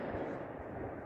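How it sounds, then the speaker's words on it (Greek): Fireworks go off across the town of Alexandreia during a 2021 celebration, heard as a continuous distant crackling rumble that ends in one sharp, louder burst. "βεγγαλικά, συγγνώμη."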